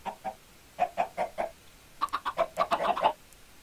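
Minecraft chickens clucking nearby in short bursts, a few scattered clucks followed by a busier run of rapid, overlapping clucks.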